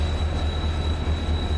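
Boxcars roll along a railway in a block-building game as a steady, loud rumble with a low pulsing beat and a thin high whine running throughout, with no talking.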